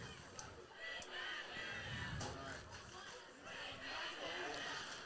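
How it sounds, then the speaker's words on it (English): Marshfield football fans chanting "We Can't Hear You" in the stands at a high school game against Hudson, a broad, sustained roar of many voices that swells and dips, with an announcer talking over it. "the Marshfield crowd letting loose with the "We Can't Hear You.""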